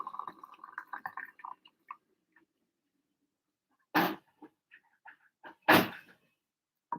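Dogs making small noises close by, soft snuffles and whimpers early on, then two sharp sneeze-like snorts separated by quieter snuffling.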